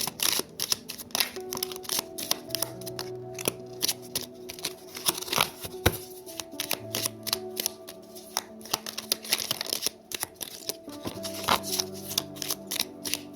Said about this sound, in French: Alors, on va tirer quelques cartes.